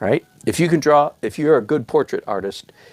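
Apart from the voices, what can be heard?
None of the usual background noises is heard.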